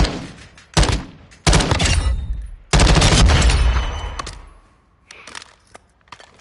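A light machine gun in Modern Warfare 2 fires incendiary rounds in three loud, close bursts of rapid shots, the last and longest trailing into a fading echo, followed by faint clinking of spent casings.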